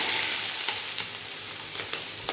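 Chopped onion, carrot and capsicum fry in hot ghee for egg fried rice, giving a steady close sizzle with faint stirring clicks throughout.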